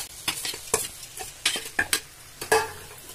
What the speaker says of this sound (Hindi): चावल डाल के आप इस तरह मिक्स कर लीजिए। मिला लीजिए अच्छी तरह से।